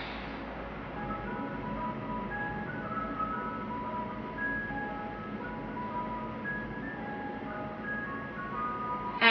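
An ice cream truck plays its tinkling melody outside, a steady repeating tune running continuously at moderate volume with no talk over it.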